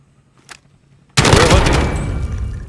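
Sudden loud burst of automatic gunfire in Call of Duty: Modern Warfare, close and continuous after a brief quiet lead-in, with no talk over it.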